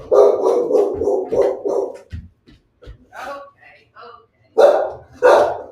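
A dog barks in two loud, close bursts near the end, after a stretch of people talking indoors at the door while carpet cleaners visit.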